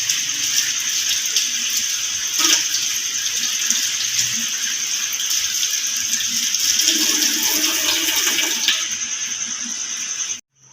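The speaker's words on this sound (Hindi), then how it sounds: "पहले हम नीम के पत्तों को अच्छी तरह से धो लेंगे ताकि इसके अंदर जो भी इसके ऊपर लगी हुई मिट्टी सब कुछ उतर जाए" Neem leaves being washed under running tap water, a steady close splashing stream that continues without break for about ten seconds before stopping abruptly.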